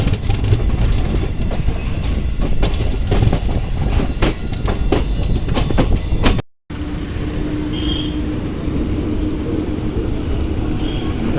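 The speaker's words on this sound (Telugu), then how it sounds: "సో ఓల్డ్ ఐసీఎఫ్ కోచ్లే కాబట్టి 110 km/h అయితే వెళ్తుంది అనమాట మన ట్రైన్ వచ్చేసరికి" Circar Express passenger train made of old ICF coaches, running between Kakinada and Chengalpattu at around 110 km/h, rumbles loudly with rapid clickety-clack of wheels over rail joints, then after a brief cut continues as a steadier, smoother roar with faint squeals.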